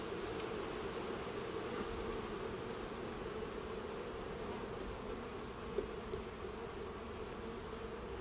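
A dense, steady drone of many honey bees buzzing close by during an October hive inspection, continuous and even throughout with no talk.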